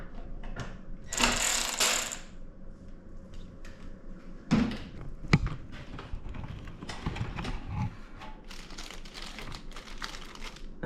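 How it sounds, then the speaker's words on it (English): Wrenching rusty bolts on a 2000 Honda Civic Si, heard as close metallic ratcheting, clicks and scraping clanks in irregular bursts, with a loud hissing rustle early on and no talking. "I think I'll undo those two bolts, that thing,"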